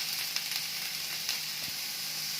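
Food fries in a pan with a soft, steady sizzle, faint and continuous, with a few light crackles and no voices.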